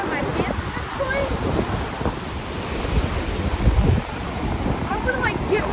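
Ocean waves surging ashore at Anna Maria Island during Hurricane Idalia, a loud continuous roar of surf and crashing water mixed with heavy wind buffeting on the microphone throughout.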